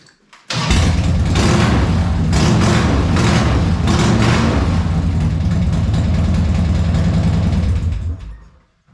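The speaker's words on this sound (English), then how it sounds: "Well, there it is, guys. It's running." A Harley motorcycle engine fitted in a golf cart fires up on its first start and runs loud and steady for about eight seconds with a deep rumbling idle, then cuts off.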